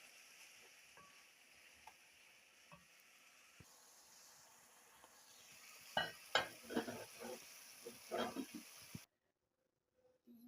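Shrimp and vegetables fry quietly in a pan, a faint hiss running under a few scattered taps before a cluster of louder stirring scrapes and clatters near the end, then sudden silence.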